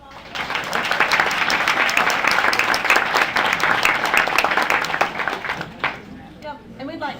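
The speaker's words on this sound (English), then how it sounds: "big hand of applause?" Applause for a panel of gardening speakers rises fast and holds as dense, steady clapping from a sizeable audience, then thins and breaks off near the end as voices take over.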